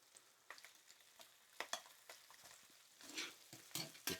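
Sauerkraut sizzles quietly in a pan while being stirred, with soft scrapes and crackles that swell near the end, heard close up and faint.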